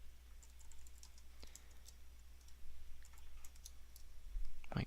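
Keystrokes on a computer keyboard while entering Linux server commands, a quiet, irregular run of light clicks over a steady low hum, sparse at first and picking up toward the end.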